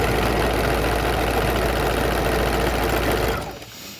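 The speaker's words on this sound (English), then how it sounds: "and just move it up till it touches the needle and start sewing." A sewing machine stitching half square triangles runs in a steady, loud, fast whirring hum, close up, then stops abruptly near the end.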